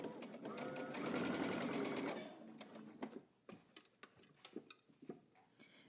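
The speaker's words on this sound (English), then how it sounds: "we're going to head to the sewing machine and we're going to stitch using 3/8 of an inch seam allowance" A sewing machine stitches fabric along a 3/8 inch seam with a steady, close mechanical whir for about two seconds. It then stops, leaving light ticks and clicks of fabric handling.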